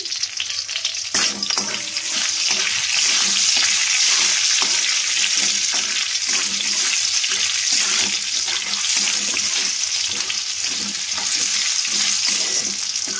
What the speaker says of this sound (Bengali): কড়াইয়ের মধ্যে আমি তেল দিলাম, আর শুকনো লঙ্কা দিলাম, আর দিব 5 ফোড়ন।